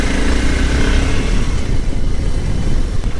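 A Voge 650 DS motorcycle engine drones steadily with loud wind rumble, as if heard from the rider's seat while moving along.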